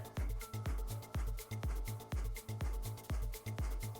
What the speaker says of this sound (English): It's like a very hard exhale and a passive inhale.